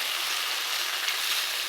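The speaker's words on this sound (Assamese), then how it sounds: "এয়া এইবাৰ মই অকণমান সময় ভাজি লৈ ইয়াতে অকণমান পানী দি দিম।" Chicken with onion and peanuts frying in a pan, giving a steady, close, bright sizzle that holds evenly throughout without any voices.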